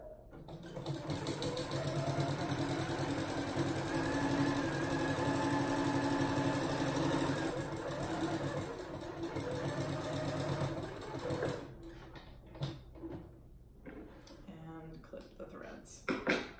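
A sewing machine runs steadily, stitching rag quilt blocks together in a long continuous whir. It slows and stops near the end, leaving a few light handling noises.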